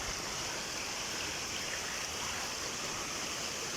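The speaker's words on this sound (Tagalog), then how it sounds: "Kita nyo guys, napakahaba ng falls." A waterfall in Absam, Tirol, Austria gives off a steady, unbroken rushing roar of falling water, dense and constant throughout.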